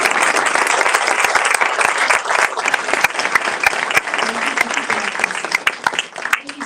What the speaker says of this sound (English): Could we give them both a round of applause?